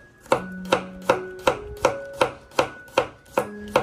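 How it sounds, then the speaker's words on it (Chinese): A kitchen knife slicing garlic cloves into thin slices, with about nine crisp, evenly spaced cuts striking the board in a steady rhythm, close up and alone. "我们要准备一些大蒜，给它切成蒜片。"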